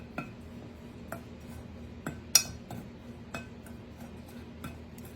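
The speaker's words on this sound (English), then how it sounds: "And we're going to just mix this up real good." Cinnamon and brown sugar stirred together in a bowl, a spoon giving sparse, light clinks and taps against the sides, about seven soft knocks spread irregularly over a quiet background.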